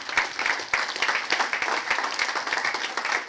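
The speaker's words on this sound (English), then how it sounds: "Let's give them an applause." A room of attendees at El Segundo's State of the City 2022 event gives a brisk round of applause, dense and even clapping that holds steady throughout, with no voices heard above it.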